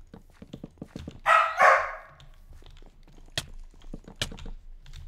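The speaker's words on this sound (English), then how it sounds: "barking dog in the background." A dog barks in the background in short sharp bursts, with a louder cluster of barks early on, then scattered yaps and thumps without any talking.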